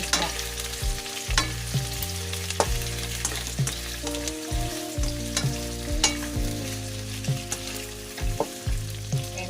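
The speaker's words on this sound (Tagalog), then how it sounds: "Lutuin natin yung isda." Blue marlin fish fries in a pan with a steady close sizzle and intermittent clicking stirs, under a prominent rhythmic music track with no talking.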